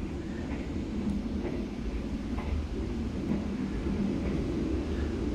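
Inside a stainless-steel sleeper carriage of the KA Jayabaya night train, at the rear of the train, a steady low rumble and wheel drone runs beneath the carriage, moderate and continuous with faint periodic rail clicks and no talking.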